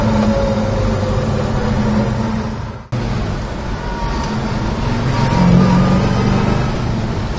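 A 1964 Chevrolet El Camino engine runs steadily while driving, a loud continuous rumble with road noise and a brief dip midway.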